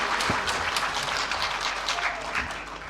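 Steady, dense applause from an audience at a community friendship evening, many hands clapping together at close range for the whole stretch, with a faint voice underneath.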